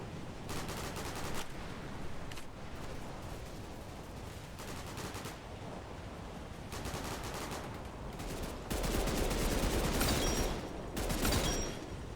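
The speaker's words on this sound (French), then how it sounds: "des fois, je tire sur les mannequins parce que ça rapporte de l'argent" Rapid bursts of gunfire from odd, unusual weapons in a shooting video game, aimed at target dummies; dense crackling volleys run continuously and swell louder near the end, with no talk.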